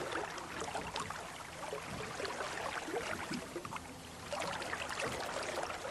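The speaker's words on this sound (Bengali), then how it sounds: "হাতের বৈঠা যেন জলকে তোলপাড় করে সব বাধা অতিক্রম করে নৌকাকে তীর গতিতে নিয়ে চলেছে" An old boatman's oar churns and splashes through river water as he rows a wooden boat, a steady wash of sloshing and gurgling that swells louder toward the end, with no voices.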